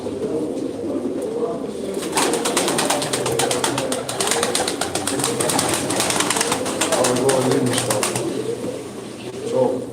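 Breeding pigeons in a loft coo continuously at close range, their soft, throaty rolling calls overlapping, with a burst of fluttering or scuffling sounds in the middle and no speech heard.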